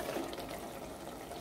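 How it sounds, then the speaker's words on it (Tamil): Water poured into chicken biryani masala in a pan, a steady close splashing and trickling stream, alone with no voices. "இந்த ஸ்டேஜில் நான் 1/2 கிளாஸ் அளவுக்கு தண்ணி ஆட் பண்ணுறேன்."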